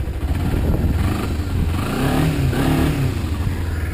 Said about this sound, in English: it's gonna be recording this ride on my Ninja 250R 2009